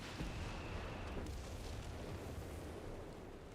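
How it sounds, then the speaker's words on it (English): A Vespa barrage in Company of Heroes 3, with continuous explosions rumbling through a dense, loud wash of blasts and debris that stays steady before easing slightly toward the end. "Vespa barrage."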